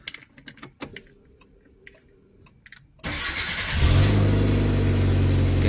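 A few clicks and faint rattles, then a Hyundai Matrix 1.6 engine with a faulty, humming automatic gearbox cranks and catches at about three seconds, settling into a loud, steady idle close by.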